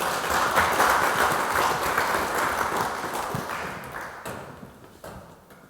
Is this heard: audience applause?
yes